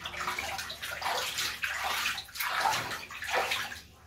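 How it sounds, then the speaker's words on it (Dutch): Tap water pours steadily into a bathtub, a continuous rushing splash with sloshing surges, close and fairly loud, no voices over it. "Dan zal ik het water erin laten."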